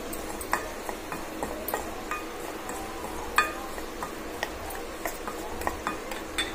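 Homemade lemon pickle being stirred together with cumin powder in a bowl, giving steady, quiet scraping and clinking of a spoon at close range, with sharper ticks now and then and no talking.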